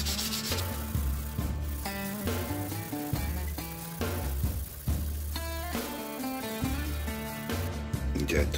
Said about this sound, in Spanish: una lija finita